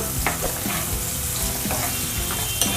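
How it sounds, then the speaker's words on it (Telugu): Sliced onions frying in oil in a pan until golden for a meal maker soya masala curry, a loud continuous sizzle with occasional light scrapes of a stirring spoon, and no speech. "ఈ ఉల్లిపాయలు దోరగా ఫ్రై చేసుకోవాలి గోల్డెన్ కలర్ వచ్చే వరకు"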